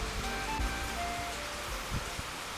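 Rain falls steadily outdoors as a broad, even hiss with scattered soft drops and patters, close by and continuous, with no talking.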